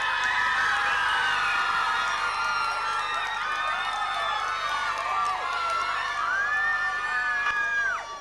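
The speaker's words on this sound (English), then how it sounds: "Put him up in the air, come on, give a cheer" Children at a school hurling match (Coachford v Ballinadee, 2004) whoop and cheer loudly and steadily as they throw a player into the air, high excited voices overlapping close by throughout.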